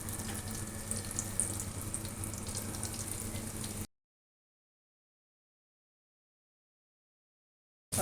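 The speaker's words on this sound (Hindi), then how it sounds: "ऑयल को ज़्यादा गर्म नहीं करना, बस हल्का सा गर्म हो और इसमें विंग्स डालते जाएं।" Chicken wings frying in lightly heated oil for crispy fried wings, a steady hiss and crackle for about four seconds, then the sound drops out into silence.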